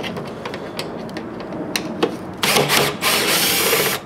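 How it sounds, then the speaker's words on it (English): A power drill bores holes through a plastic aftermarket door panel on a 1973–87 Chevy C10, with light handling clicks first and then two loud, close whirring bursts. "we'll drill out these 2 holes here in the plastic"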